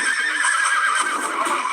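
A horse gives a loud, close whinny that rises and trembles for nearly two seconds, heard alone with no talking.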